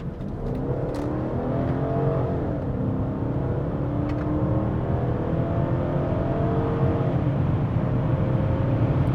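A first-generation Chrysler 300C with 340 horsepower and 390 pound-feet of torque accelerates under power, its engine note climbing smoothly in pitch over several seconds, fairly subdued and steady, with no talking.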